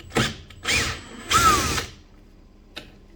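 A power drill unscrews a wheel on an Indesit dryer that will not spin, running in three short, close whirring bursts, followed by a small click.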